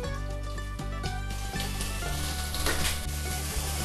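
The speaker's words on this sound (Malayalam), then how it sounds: "ഇനി സവാള ഇതിനകത്തേക്ക് ഇട്ട് നമുക്ക് വഴറ്റിയെടുക്കാവേ" Chopped onion sautéing in hot oil in a kadai, a steady close sizzle with stirring scrapes and soft clatter throughout, no talk.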